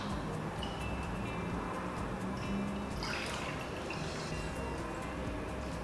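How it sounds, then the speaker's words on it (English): Beef bone broth ladled into a strainer, with soft continuous dripping and trickling liquid, quiet and close, with a brief louder splash midway. "what we're going to do now is just carefully ladle all the liquid with some of the solids"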